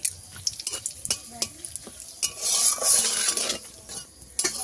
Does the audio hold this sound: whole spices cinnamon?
yes